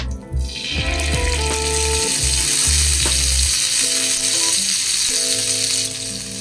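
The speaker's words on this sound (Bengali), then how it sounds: "ঘি আর তেলটা একটু গরম করে নেব।" Ghee and oil heating in a pan on the stove before chicken goes in for shallow frying, a steady loud sizzle with metallic rattles and clinks of the pan throughout.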